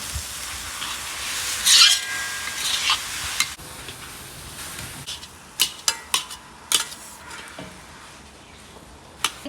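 Khoa and carrot mixture for gajar barfi being stirred and mixed in a pan, with scraping strokes, a soft sizzle and several sharp utensil clinks against the pan toward the end; no voices.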